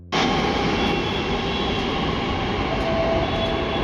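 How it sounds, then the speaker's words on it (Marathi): Pune metro train in motion, a loud, steady rolling roar of the carriage that starts abruptly and holds evenly throughout with no talk. "मी मेट्रो मध्ये बसून रिटर्न आलोय"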